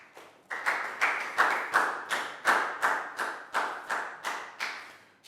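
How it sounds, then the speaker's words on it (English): A classroom of Year 4 students claps for a classmate during a maths lesson, delivering about a dozen distinct bursts of clapping in a steady rhythm, close and fairly loud, with no talking. "A big round of applause for Pangpon,"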